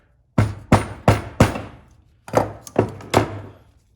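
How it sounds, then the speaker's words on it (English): Seven sharp metallic hammer taps on pliers used as a punch during drill press return spring replacement, in two quick bursts of four and three, close and loud, with short ringing decays and no talking. "I'm just gonna use my pliers as a little punch. And a hammer"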